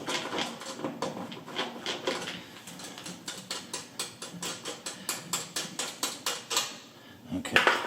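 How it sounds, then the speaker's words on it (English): Metal socket on an electric range's terminal nuts gives a run of sharp, evenly spaced ratcheting clicks, close and fairly quiet, with no talk over them. "we're going to go ahead and loosen these outer nuts"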